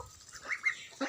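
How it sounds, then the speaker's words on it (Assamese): Domestic ducks kept with chickens at a rural home give a few short quacking calls, two brief nasal honks then another near the end, fairly close but soft. "মই এইবোৰ হাঁহ কুকুৰাও পুহোঁ"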